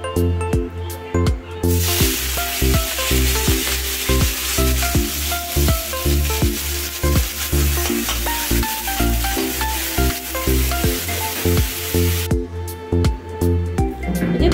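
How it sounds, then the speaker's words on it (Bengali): Shrimp fry in hot oil in a heated wok (kadai) with a loud, continuous sizzle, punctuated by rhythmic scraping and stirring strokes, quieter at the start and end. "আগে কড়াইটা গরম হয়ে গেছে, কড়াইটা বসানো ছিল, আর করছি হচ্ছে এবারে চিংড়ি মাছগুলো ভেজে নেবো।"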